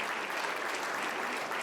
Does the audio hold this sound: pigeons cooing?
no